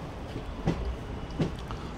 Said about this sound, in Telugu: ట్రైన్ అయితే వచ్చేసింది, మదురై జంక్షన్లోకి అయితే ఎంటర్ అయింది.